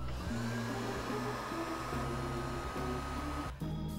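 A hair dryer blows steadily while drying acrylic paint on a craft pot, a loud continuous whirring drone held for several seconds with a slight dip near the end, with no talking.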